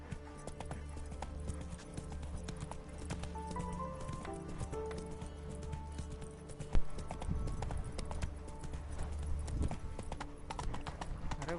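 Horse hooves clip-clop at a steady galloping rhythm in Witcher 3, close and continuous over a bed of game music.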